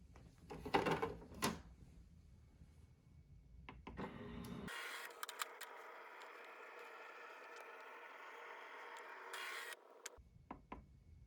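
An HP ENVY 4500 printer runs a scan: a few knocks and clicks at the start, then a steady mechanical hum from the scanner carriage for about five seconds, ending with a few more clunks and handling sounds.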